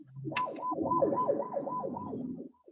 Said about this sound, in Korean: 앰뷸런스가 지나가고